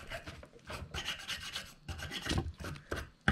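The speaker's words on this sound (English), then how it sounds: "I'm just going to wire brush the rest of this" A wire brush scrubs a valve part from a Snowbird snowblower in quick, rasping strokes, close and fairly loud, with short pauses between bursts and no talking.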